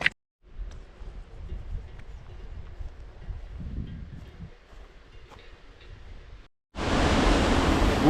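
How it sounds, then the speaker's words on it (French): A mountain waterfall on the Sanchez plateau in the Pyrenees gives a steady, dense roar of rushing water that jumps much louder near the end. "bien arrivé à la cascade du plateau de Sanchez"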